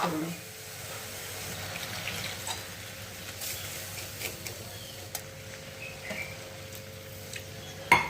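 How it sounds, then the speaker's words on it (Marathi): Milk poured into vermicelli already roasted in ghee makes a soft, steady liquid trickle and bubbling, faint and close, with a few small clicks and a sharper tap at the end. "मग आता टाकले याच्यात दूध दुधाचीच करणार"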